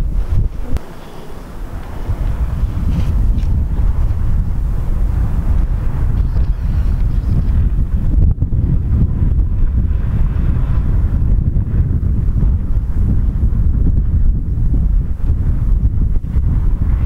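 Strong, cold wind in Iceland roars steadily across the microphone, a loud continuous low rumble with buffeting gusts and no voices.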